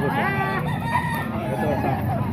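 Roosters crow and cluck amid a busy market bargain stall, drawn-out calls layered over crowd chatter and a steady background hum.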